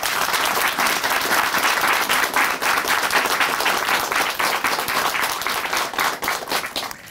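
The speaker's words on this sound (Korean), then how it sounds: "박수로" Church audience applauding during a Korean testimony program, loud sustained clapping from a crowd that fills the whole stretch before tapering slightly at the end.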